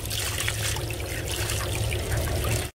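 Running water rinses pork intestines in a kitchen, a steady close splashing trickle that fills the clip and stops abruptly at the end.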